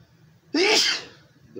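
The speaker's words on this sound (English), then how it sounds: "Probably had a little sneeze there from allergies" One sharp, close allergy sneeze bursts out suddenly after a quiet moment, loud and brief, then fades.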